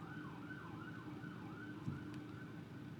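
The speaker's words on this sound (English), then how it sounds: "Sirens outside my apartment door" Emergency vehicle sirens wail outside an apartment window, the rising and falling tone rolling steadily and fairly faint over low street traffic rumble, with no talking.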